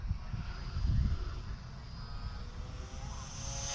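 An XK A210 T-28 Trojan RC airplane flies by outdoors, its small electric motor giving a steady whine that swells briefly and stays moderately near, with low rumble from wind and handling around it.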